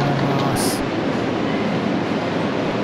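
A Seibu Railway train stands at Hon-Kawagoe Station, giving a steady, loud broadband rumble throughout, with a brief high-pitched tone early on.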